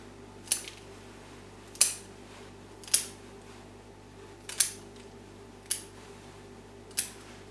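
Six sharp snips of scissors cutting orchid roots, spaced about a second apart, crisp and close over a faint background hum.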